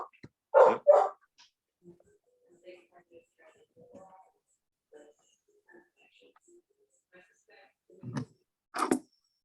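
A dog barks twice up close during a town board meeting, followed by quiet murmuring voices and then two more barks near the end.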